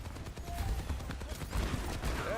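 Gunfire in the video game Tom Clancy's Rainbow Six Siege, heard as rapid, fairly quiet bursts of shots repeating over a busy, noisy background.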